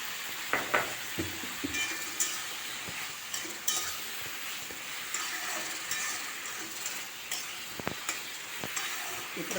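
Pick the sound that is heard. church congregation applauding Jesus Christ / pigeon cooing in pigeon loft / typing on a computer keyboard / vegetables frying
vegetables frying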